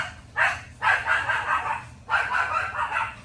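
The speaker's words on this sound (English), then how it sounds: "someone came to the door when I'm trying to do something, and the dogs went nuts" Several dogs barking at someone at the door, in three harsh overlapping bursts, loud and fairly close, with no talk.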